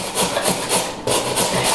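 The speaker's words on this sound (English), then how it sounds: "I could cut carrots, but they tend to roll off the cutting board, so I'm just going to grate them" Carrots are grated by hand for a kale salad, producing a steady run of quick, close rasping strokes in an even rhythm with only a brief pause, and no talking.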